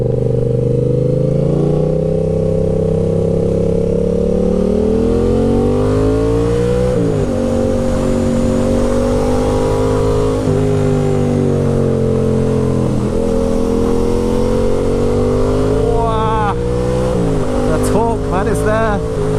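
Yamaha MT-07 motorcycle fitted with a full GR Moto exhaust system accelerating to overtake, a loud rising engine drone with several gear changes and revs climbing again, heard from the rider's position with wind noise and occasional talk.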